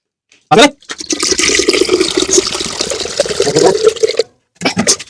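Wet cement slurry being mixed with Dr Fixit URP liquid for bathroom waterproofing, a continuous sloshing, scraping churn up close, framed by short louder knocks at the start and end.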